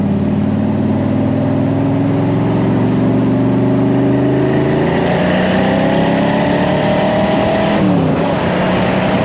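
A classic car accelerates hard, its loud engine note climbing steadily in pitch through the gears with a brief drop at a shift near the end, heard close up and dominating everything else.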